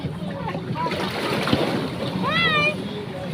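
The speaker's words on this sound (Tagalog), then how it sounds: "Ang pasampas na lang ng alon." Waves splash and wash against a rocky shore in Batangas, a continuous churning wash with wind noise, while people talk and exclaim nearby and a whistling squeal rises briefly.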